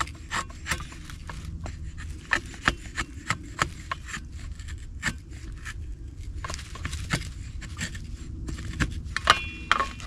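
A Cold Steel Trail Hawk tomahawk with a convex grind shaves curls from wood outdoors, giving irregular short scraping strokes, close and moderately loud, with no talking.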